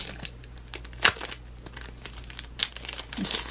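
Card packs from a Carnival Zombie 2nd Edition deluxe board game box are unwrapped, giving close crinkling and tearing of plastic wrap with a few sharper crackles and no talk.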